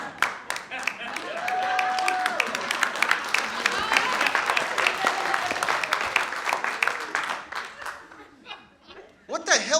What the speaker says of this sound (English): what the hell was that weird, slow decision to applaud?